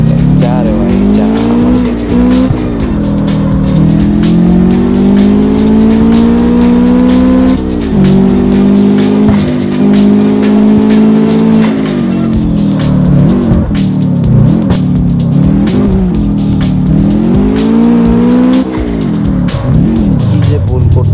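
A car in the CarX Street video game revs and drives through heavy traffic, its engine droning loudly and rising and falling in pitch throughout with occasional tire squeal, while someone talks over it.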